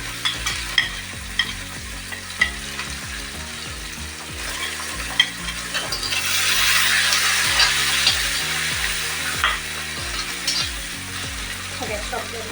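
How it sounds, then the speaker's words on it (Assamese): Onions frying in oil in a pan for a mutton curry with curd, a steady sizzle broken by repeated scraping and tapping of the stirring spoon, close and clear. "পিঁয়াজখিনি অলপ ৰঙচুৱা হোৱালৈকে মই ভাজিম"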